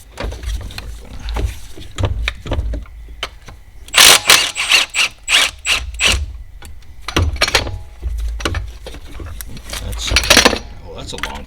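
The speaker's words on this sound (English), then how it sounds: "The next step here is to take an E14, there it is, E14. We're going to put it on the center bolt there." A ratchet with an E14 socket turns the centre bolt on the accessory belt drive of a 2008 Mercedes GL320 OM642 engine, giving a close series of rapid metallic clicks and clunks, with someone talking around them.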